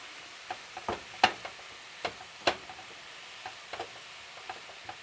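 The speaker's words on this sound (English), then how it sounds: "what we want to do now is let this simmer" Courgette pizza sauce simmering in a pan, a quiet bubbling bed with scattered spitting pops and light clicks at irregular intervals, close by and without speech.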